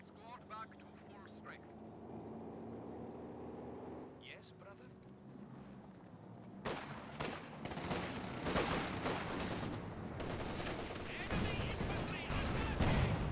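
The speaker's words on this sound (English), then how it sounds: "Shots fired" Tank cannon and battlefield gunfire from a Panzer IV in the real-time strategy game Company of Heroes 2, starting quietly and then turning into dense, loud volleys and repeated blasts, with voices talking over it.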